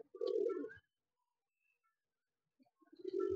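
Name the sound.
male pigeon cooing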